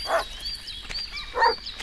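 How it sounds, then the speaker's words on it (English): A dog in a video game barks twice, a short bark at the start and another near the end, moderately loud against a steady electronic background hum. "Why is the dog barking at that moving pile of leaves?"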